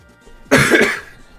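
A single sharp, loud cough bursts out close to the microphone and fades after about half a second, with quiet room tone on either side.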